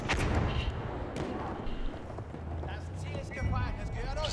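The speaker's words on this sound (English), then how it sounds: "Oh, all those mortars." Mortar and artillery blasts rumble in a Battlefield 1 multiplayer match, heavy booms near and distant over a continuous battlefield din, with voices talking throughout.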